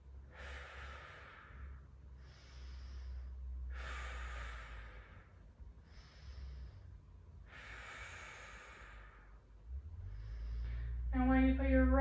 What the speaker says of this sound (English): Let's take a few breaths.